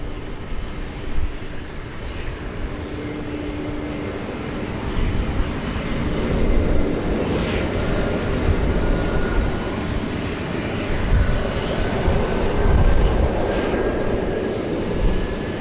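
A fixed-wing airliner departing Sydney Airport in rainy daytime weather, its engines producing a steady, distant roar that slowly swells and sustains over the rain-soaked background without any voices.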